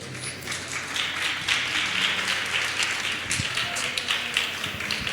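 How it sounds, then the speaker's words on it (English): Applause from an audience at a festival presentation evening, a dense, steady wash of clapping held at an even level throughout, with a few voices underneath. "I didn't hear an applause for Marketa."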